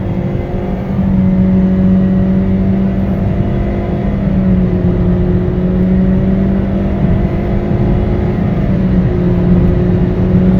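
A 1.6-litre Toyota Corolla engine with a CVT automatic transmission drones at high, steady revs under full throttle, holding a strong sustained pitch that shifts slightly as the throttle is held wide open.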